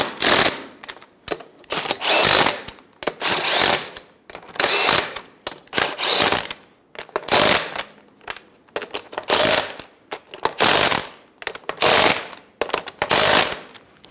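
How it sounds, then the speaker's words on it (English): A power impact tool snugs the wheel lug nuts on a 2010-2014 Subaru Outback, loud rapid hammering bursts repeated about a dozen times with short gaps between them. "Snug the nuts down."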